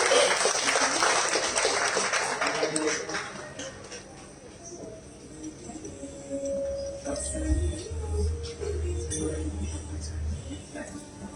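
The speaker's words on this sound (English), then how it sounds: "You're all welcome to give them a clap." At a Bhagavad Gita chanting competition award ceremony, the audience gives a burst of hall applause that fades after a few seconds, followed by quieter room murmur and voices.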